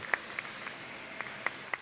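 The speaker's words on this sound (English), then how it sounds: "let's get another round of applause for Manolo" An audience applauds for a guest artist, faint and distant, with scattered individual claps popping out over a thin, soft wash.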